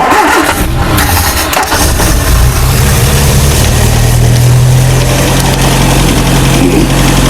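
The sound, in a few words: 1968 Commer 2500 van engine starting with choke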